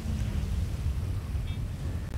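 Rain and low rumbling thunder in the GTA Grand RP game world, a steady, dense low roar of storm noise with no distinct claps, continuous throughout.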